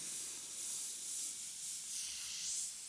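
Iwata 50th Anniversary HP-C airbrush giving a steady, soft airy hiss, continuous and even throughout, with no talking.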